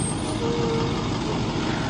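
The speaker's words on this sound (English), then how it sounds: "And here comes a truck." A tour tram rolls past near a big tree, making a loud, close, steady engine rumble and road noise that fills the whole moment without a break.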